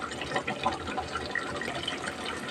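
Water pours into a pot of chicken biryani with a soft, continuous gurgling splash, fairly quiet and steady throughout.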